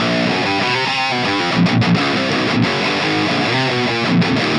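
A heavily distorted electric guitar through a Dual Baby transistor amp plays continuous chords and notes, loud and saturated, with a thick, gritty tone and no voices.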